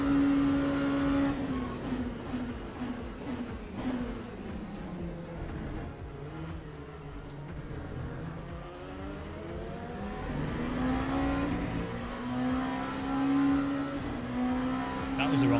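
Racing car engines in the video game Le Mans Ultimate drone and whine at moderate volume, pitch sweeping down then climbing again as they accelerate, with faint voices underneath.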